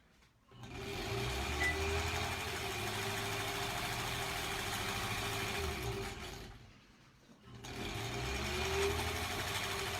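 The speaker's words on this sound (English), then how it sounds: "I'm just sewing until I am not lined up anymore" A sewing machine stitches a quilt block in a steady, fast mechanical whir. It runs for a long stretch, pauses briefly, then starts sewing again. No one speaks.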